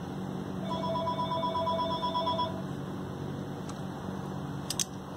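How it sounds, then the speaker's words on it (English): A telephone rings with a single steady electronic trill, left for an answering machine to pick up, over a constant hum in a workshop where a Sansui 881 receiver is being repaired. A few faint clicks follow. "we're just going to let the machine get the phone call"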